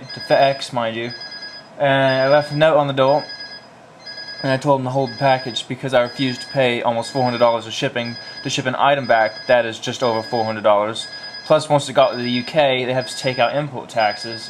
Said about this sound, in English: And that was the phone that seems to never stop ringing.